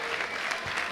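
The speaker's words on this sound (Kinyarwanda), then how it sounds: "Amashyi menshi cyane kuri Rugamba." Audience applause for comedian Rugamba at a live stand-up comedy show, a dense steady patter of many hands clapping throughout, fairly loud and with no talk over it.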